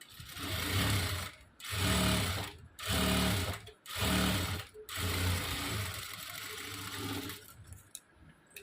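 A sewing machine runs in four or five short bursts, stitching the lining of a blouse, loud and close with brief pauses between runs, then slowing to a quieter whir at the end.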